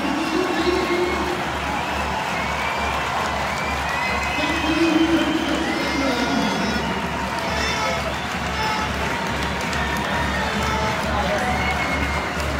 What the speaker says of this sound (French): Voilà une minute d'applaudissement pour toutes les victimes du conflit en Russie et en Ukraine.